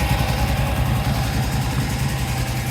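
An engine runs steadily during a carburetor and timing test, a loud, even mechanical drone with a low rhythmic pulse and no talk.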